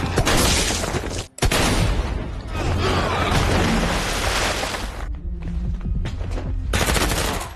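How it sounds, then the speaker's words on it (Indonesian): Sustained, loud gunfire from a film shootout at a gangster hideout, with dense bursts of automatic fire and shots overlapping almost continuously, broken by a brief pause and a short lull near the end. "sedang terjadi baku tembak di markas gangster Nusi"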